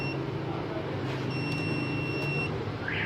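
A UPS board's overload buzzer beeps as a steady high tone over heavy background hum and electrical noise.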